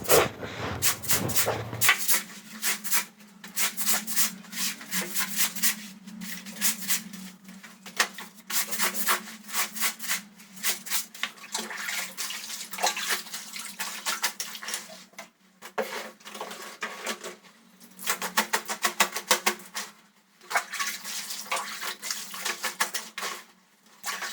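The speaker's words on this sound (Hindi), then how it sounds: "कपड़े धो लेती हूँ और मिलती हूँ आप लोगों से थोड़ी सी देर में कपड़े धोने के बाद" Clothes are washed by hand in water with continuous rubbing and scrubbing, wet slaps and splashes coming in busy irregular bursts close by, with no voices.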